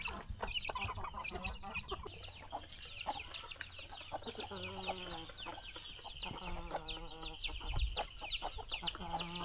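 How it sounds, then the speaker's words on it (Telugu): Hungry native hens cluck busily on a rainy-season poultry farm, with overlapping rhythmic clucks and chatter from many birds, moderately loud and close. "అసలే ఆకలితో ఉన్నాయి పాపం కోళ్ళు."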